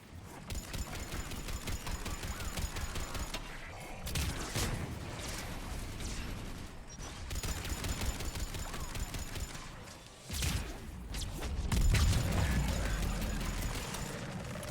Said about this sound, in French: Ça tire et ça pète dans tous les sens.